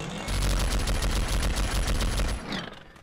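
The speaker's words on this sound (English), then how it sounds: "that is a double chain gun" Double chain gun firing in the video game Starforge: a loud, continuous rapid burst of heavy automatic shots for about two seconds, then an abrupt stop with a brief whirring tail.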